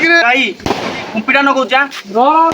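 Firecracker rockets burst during Diwali celebrations as two sharp, brief pops cut through excited overlapping talk from people nearby.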